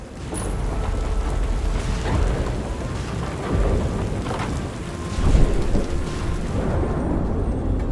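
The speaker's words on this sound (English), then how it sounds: "Seems we're in for a rainy night." Steady heavy rain with low rolling thunder swelling and fading several times, a rainy night inside the fantasy tavern management game Tavern Keeper.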